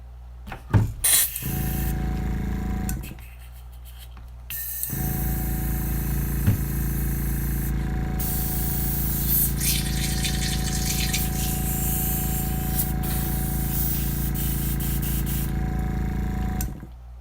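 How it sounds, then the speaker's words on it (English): An airbrush sprays white paint over a stencil on a 3D crankbait lure, giving a steady close hiss with a compressor-like hum underneath, stopping briefly near the start before running on without pause. "put stencil on it and spray white"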